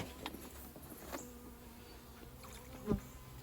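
Honey bees in a mini nuc hive, a faint, close, low buzzing drone with a few brief louder bursts as individual bees pass near, and a small knock toward the end.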